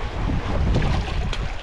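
Wind blowing at a seashore during shore fishing, a loud, constant roar buffeting the microphone with low rumble and surf-like wash throughout, no voices.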